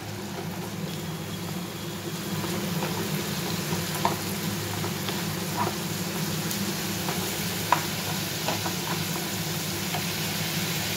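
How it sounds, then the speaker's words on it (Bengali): A spice paste with green chillies fries in a pan as a steady, rain-like hiss with a few faint ticks and pops over a low background rumble. No voices are heard. "মশলাটা কষিয়ে নিই। আর এখানে কাঁচা লঙ্কাও দিয়ে দিলাম।"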